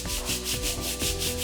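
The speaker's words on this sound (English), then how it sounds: "Now we are going to scrub this a lot harder." A brush scrubs hard across a Polytek floor in steady back-and-forth strokes, making a close, loud, rhythmic rasping sound with no voices.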